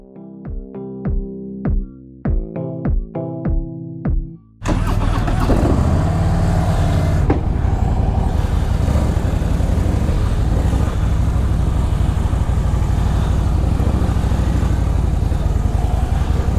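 Motorcycles set off from Kannur at dawn on a long ride toward Bengaluru: after several short clipped bursts, a continuous loud engine drone and road rush take over, steady and close for the rest.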